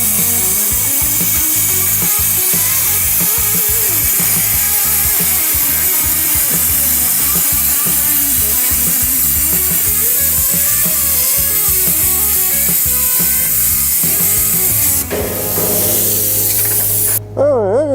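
A Thermacut EX-TRAFIRE 105HD plasma cutter slices through 3/4 inch plywood with a loud, steady roaring hiss that holds for most of the stretch and then changes character near the end.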